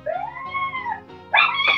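A dog yelps and whines in a house, a rising howl-like cry followed by a louder, sharper burst of yipping near the end, close by.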